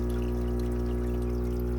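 Steady stream of water pouring from an aquarium hang-on-back filter outlet, redirected downward into the tank, a continuous close splashing trickle with no pauses.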